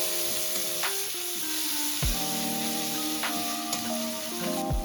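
Chopped onion stirred in the oil left after frying pabda fish gives a soft sizzle and occasional stirring scrapes, under background music.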